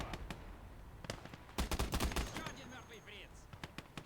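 DShK heavy machine gun firing in a Soviet battle video game, with scattered shots and then a dense burst of rapid fire that fades into lighter bursts, with voices faintly underneath.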